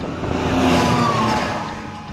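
A car passes on a road, its engine rising and falling in one smooth swell amid steady traffic noise and wind, fairly close and loud.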